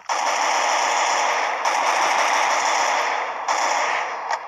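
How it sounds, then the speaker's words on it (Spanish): In the Free Fire video game, an automatic weapon fires a long, loud, continuous burst lasting several seconds, broken by a couple of brief pauses. "ahí hay uno, le voy a disparar"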